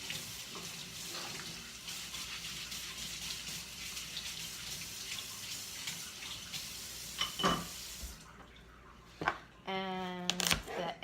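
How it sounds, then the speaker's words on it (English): A carrot is scrubbed under a running kitchen tap, a steady hiss of flowing water with faint rubbing and a few clunks of handling near the end. "And then I'm gonna scrub my carrot."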